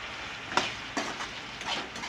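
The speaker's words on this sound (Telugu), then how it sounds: "ఇదిగో ఇలా ఉడికేటప్పుడు ఇది ఫ్రై చేసుకున్నాం కదా, ఆ చికెన్ వేసేస్తున్నా" Pieces of fried chicken dropped into a pan for chilli chicken hiss and sizzle in short bursts. A few clatters mark stirring, and the frying stays moderately loud with no talking.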